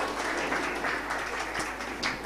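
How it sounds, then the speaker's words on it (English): Audience applause at a school annual day event, a steady wash of many hands clapping at moderate volume with no voices on top. "a big round of applause for the young Dr. Momita"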